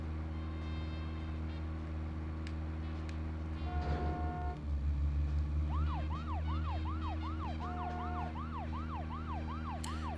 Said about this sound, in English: I got the sirens running.